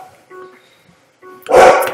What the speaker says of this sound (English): That is my annoying evil dog.